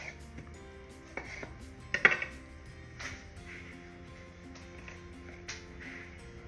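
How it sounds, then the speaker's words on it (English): A knife slices fresh strawberries for a garnish, giving a few light taps and clinks on a board, close but fairly quiet. "I will cut some fresh nice strawberries for a garnish"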